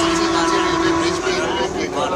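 Vande Bharat train on its inaugural run to Jammu, a steady loud rumble with a sustained tonal hum and no pauses.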